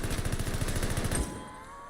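Rapid automatic gunfire in Call of Duty Vanguard Zombies, a steady burst of evenly spaced shots lasting about a second before cutting off into quiet game ambience.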